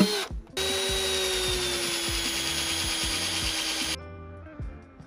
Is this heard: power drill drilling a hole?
yes